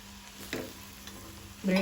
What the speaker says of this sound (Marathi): ब्रेड बरो मिक्स करून घेवपाक जाय